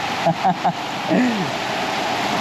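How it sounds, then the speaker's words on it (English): Steady rain patters on a narrow roof strip, a continuous close hiss heard alone. A few short vocal sounds break in early on. "it's raining and raining and raining"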